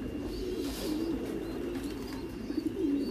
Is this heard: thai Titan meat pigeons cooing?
yes